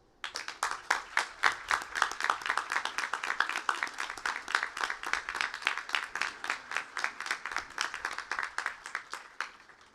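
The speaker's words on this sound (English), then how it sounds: "Please let us thank you with our applause." A modest audience at a school graduation claps in a fairly sparse round, individual hand claps distinct and rhythmic, starting abruptly and continuing steadily for about ten seconds.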